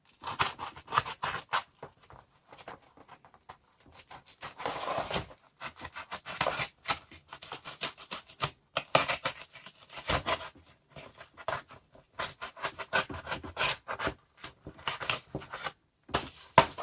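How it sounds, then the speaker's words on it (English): Material is cut by hand to make a DIY tablet holder for an Autel Evo controller, heard as irregular close snips and scraping crunches in uneven bursts with brief quiet gaps. "let's cut it from the top here"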